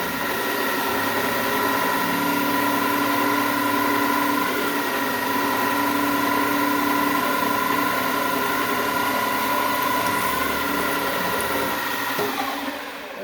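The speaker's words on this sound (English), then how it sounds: "we're going to drill right down through both sides" A drill bores down through both sides of a laser table knob, its motor whining at a constant loud pitch with a steady hum for the whole stretch, winding down right at the end.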